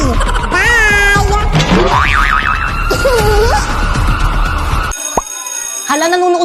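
Siren-like wailing with rising and falling swoops and a cartoonish boing, voiced mimicry of an ambulance siren in a comedic skit, loud and close, followed by a brief high steady tone.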